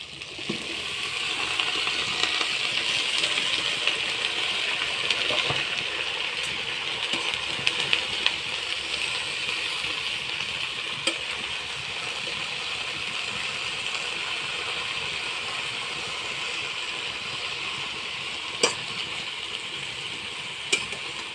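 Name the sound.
taro greens poured into hot oil and frying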